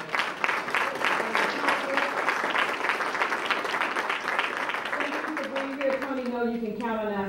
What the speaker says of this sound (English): I want to give another round of applause, show some North Carolina love to all of our presenters.